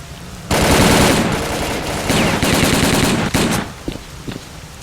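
Sustained machine gun fire in S.T.A.L.K.E.R.: Call of Pripyat, loud and close, with long rapid bursts that break into scattered shorter volleys and trail off into a few single shots.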